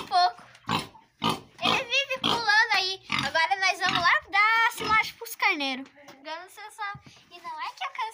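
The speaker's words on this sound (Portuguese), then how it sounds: "O porco acho que está com fome um pouco." A hungry pig on a farm grunts and squeals in quick, close bursts that fill the whole stretch, loud and busy with only brief pauses.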